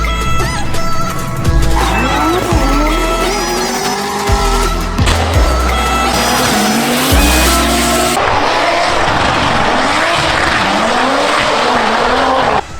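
Drift cars race through a forest circuit at a Drift Open 2021 competition, engines roaring and revving loudly and continuously, with repeated long tire squeals and skids echoing among the trees.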